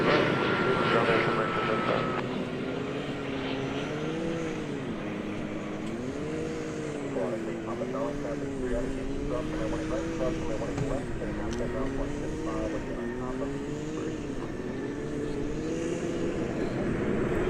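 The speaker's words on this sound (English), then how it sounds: "American Airlines and Airbus A319" An American Airlines Airbus A319 arriving at Dallas Fort Worth airport, its jet engine roar steady and distant, with someone talking over it throughout.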